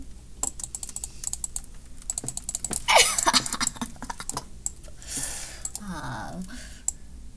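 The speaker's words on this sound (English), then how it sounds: "you type real fast" Fast, rapid keystrokes on a computer keyboard during a Roblox game, a dense clatter of clicks in quick bursts, close and clear.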